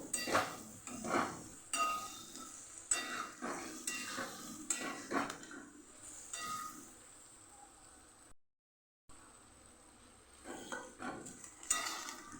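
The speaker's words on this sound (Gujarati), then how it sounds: "આવી રીતે વચ્ચે વચ્ચે આપણે હલાવતા રહીશું" Onion, garlic and chili paste with potatoes being stirred in a pan for a cabbage-potato dish: repeated scraping and clinking strokes of a spoon against the pan over a soft sizzle, with a brief silent gap midway.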